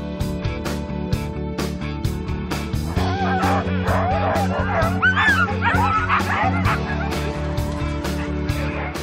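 A pack of sled dogs, including Siberian Huskies, Samoyeds and Greenland dogs, bark, yip and whine excitedly at a racing event. The chorus is loud and continuous, with many overlapping voices and a voice briefly heard under the noise.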